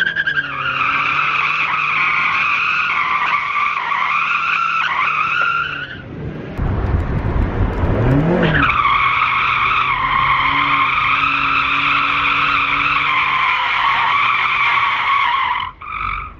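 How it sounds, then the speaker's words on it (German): Turbocharged Mazda MX-5 on new BC Racing coilovers drifting, a loud sustained engine drone with a burst of tire skidding and squeal midway, close and continuous with no talk. "Ganz genau, erstmal querfahren."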